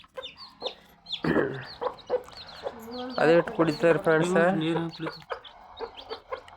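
Three-day-old native chicks chirp and cluck repeatedly close by, their busy calls mixed with someone talking over them.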